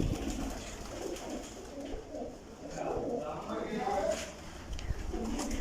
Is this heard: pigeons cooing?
yes